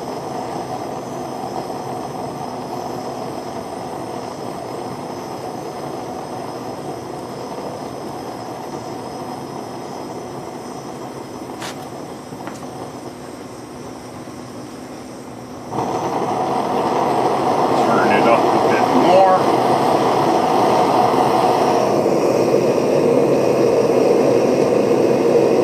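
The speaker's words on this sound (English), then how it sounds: "There, it's now burning at a low level. Let it warm up a little bit." A coffee-can mini foundry burner roars at a low level as it warms up, a steady broadband rush that grows noticeably louder and fuller partway through.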